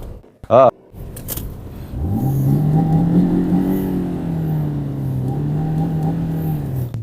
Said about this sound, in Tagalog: Yusog muna natin ang kotse sa daan.